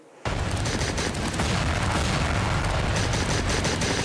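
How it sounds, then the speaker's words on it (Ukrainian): A sudden loud blast erupts and rolls into a sustained roaring rumble as a Stinger anti-aircraft missile launches in a war video game, dense and continuous. "Зенітно-ракетний комплекс Стінгер наводимось, робимо постріл"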